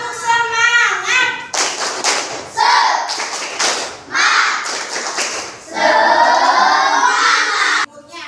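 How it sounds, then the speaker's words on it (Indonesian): A classroom of children does a rhythmic spirit clap, bursts of sharp hand claps in a patterned beat mixed with loud chanting and shouting voices. "Kita tepuk semangat dulu ya."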